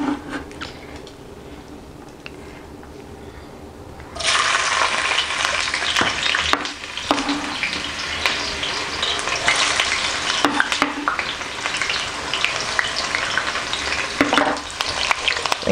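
Onions go into hot oil for egusi stew and burst into a loud, bright sizzle that stays dense and continuous, with occasional stirring scrapes on top.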